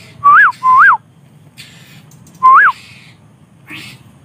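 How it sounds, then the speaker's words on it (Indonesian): Three short rising-falling cat meows, two in quick succession and one after a pause, over faint background cricket chirping outdoors. "Nah, itu kucingnya."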